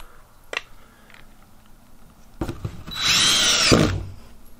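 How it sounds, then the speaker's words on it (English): A cordless drill drives screws into drywall on a ceiling, with a brief whirring burst near the end after some faint handling clicks and taps, fairly close. "We're gonna screw these in like normal."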